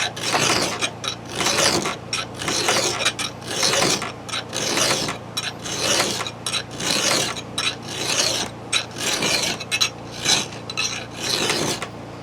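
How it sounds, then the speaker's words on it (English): A hand file rasps across the teeth of a Husqvarna 445 chainsaw chain in rhythmic repeated strokes, about a dozen close, scraping pushes with short pauses between them, and no talking. "now once you've got the gullet out of the way, now you can start filing straight back"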